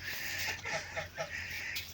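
A domestic goose calls in a series of short honking clucks, fairly close, over steady low background hum with no talk.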